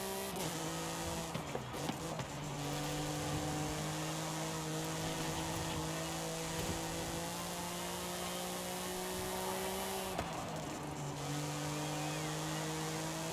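An offroad rally car in Forza Horizon 5 holds a steady engine drone through a lap, its pitch climbing gradually, with two brief dips around gear shifts and faint background commentary.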